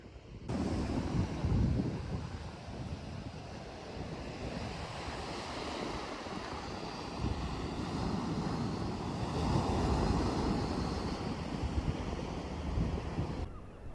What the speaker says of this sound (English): Right, it's a bit breezy, so I've switched onto the Boya microphone